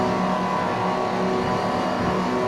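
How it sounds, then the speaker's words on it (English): Supercar race engines revving loudly and steadily on the grid at Watkins Glen in a sim racing game, a dense continuous drone with no pauses. "As the revs start to rise"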